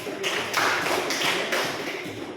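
Classroom applause, a dense burst of hand clapping from a group that swells and fades over a couple of seconds, fairly loud and close.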